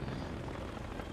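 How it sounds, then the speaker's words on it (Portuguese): A Battlefield 3 helicopter roars close and loud, a dense continuous rotor and engine rumble filling the short moment on its own. "Ah, o helicóptero."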